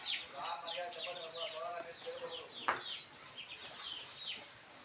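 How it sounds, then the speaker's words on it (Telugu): Soft clucking and chirpy bird calls from nearby fowl, with faint talk underneath and one brief sharp click. "మా కోళ్ళు చూడండి ఎలా వెళ్తున్నాయో"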